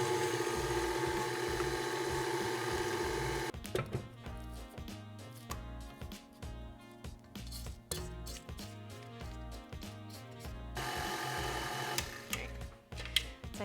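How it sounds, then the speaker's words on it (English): An electric stand mixer runs on low speed through coffee cake batter, its loud steady mechanical whir and rhythmic rattling churn continuing close by for the whole stretch. "I'm just going to turn my mixer back on, this time on low speed, for about a minute or so"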